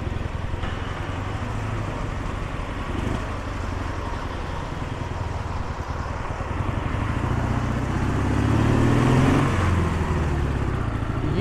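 A 1976 Dnepr MT 9 motorcycle engine drones steadily under wind noise, rising in pitch as it accelerates toward the end, with a shift into second gear audible.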